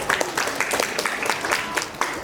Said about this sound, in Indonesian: Tepuk tangan untuk tim D.